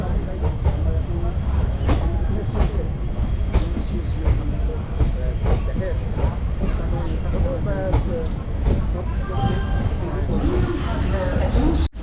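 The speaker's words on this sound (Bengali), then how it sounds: "এই হচ্ছে ক্যাপিটাল এক্সপ্রেস ওয়াপ 7 নিয়ে দাঁড়িয়ে আছে।" Capital Express hauled by a WAP-7 electric locomotive stands at New Jalpaiguri station, giving a steady, loud rumble with rail clatter and platform bustle throughout, and voices mixed in.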